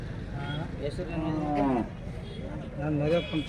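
A pair of oxen at the Devaragudda cattle fair low in long, drawn-out calls, two moos rising and falling over a few seconds, fairly close, with steady background noise.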